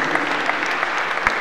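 A church congregation at Lazarus' tomb in Bethany, Israel, bursts into lively applause, brisk and continuous with a few sharper claps rising above the crowd.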